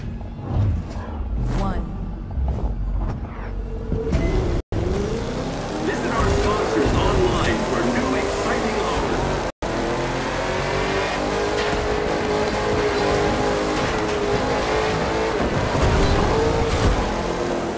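Classic cars race on a closed course in The Crew 2, engines roaring and revving close by, with gear shifts and rising pitch sweeps. A voice talks over the opening moments.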